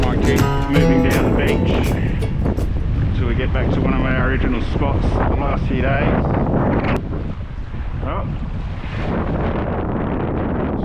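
Strong wind blows fast across a beach sandbar on Yorke Peninsula, buffeting the microphone with a loud steady rush, while someone talks over it.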